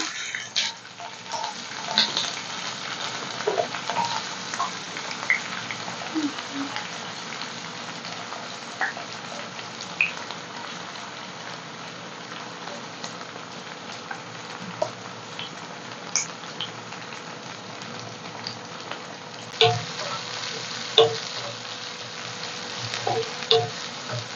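Fennel seeds and onions frying in a pan give a steady, close sizzle throughout, broken by occasional light scrapes and clicks of stirring.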